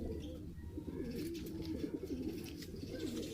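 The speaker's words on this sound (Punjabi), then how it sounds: "ਇਹ ਕਬੂਤਰ ਦਾ ਕੁੰਦਾ ਹੈ" A pigeon kept at a hobbyist's loft coos with soft, low rolling calls repeated throughout, close by but quiet, over a faint background hum.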